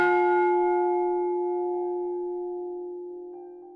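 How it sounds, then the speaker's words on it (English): A single deep bell tolls once, ringing out loud and clear before its long resonant hum slowly fades away into silence, with no voices present. "A single toll of a bell rang through the maze"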